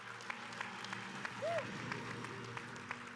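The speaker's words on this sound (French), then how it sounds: "Applaudissements, absolument." Audience applause welcoming Ridley Scott and the Prometheus cast at a Paris event, soft distant clapping throughout with a brief voice in the middle.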